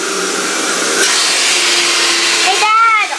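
A robot vacuum cleaner at Incheon airport whirs with a steady motorized hum throughout, its loud drone continuing as a short rising electronic tone plays near the end.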